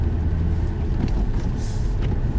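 Steady low road rumble from inside a moving car on a school-run drive, a continuous interior drone with a faint brief hiss midway and no talking.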